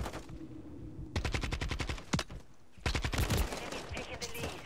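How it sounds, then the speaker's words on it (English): Video-game AK rifle fire comes in rapid automatic bursts, first one long rattling string, then a couple of single cracks, then another close, loud burst. "I'm gonna get the AK and shoot him down."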